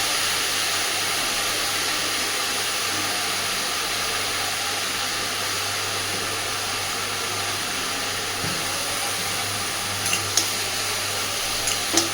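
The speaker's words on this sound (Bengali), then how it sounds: "অল্প অল্প করে দেবো আর নাড়তে থাকবো" Elephant foot yam stalks fry in a pan while being stirred, giving a steady, close hiss of sizzling that runs unbroken for the whole stretch, with a few faint clinks near the end.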